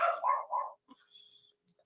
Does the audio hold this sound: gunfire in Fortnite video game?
no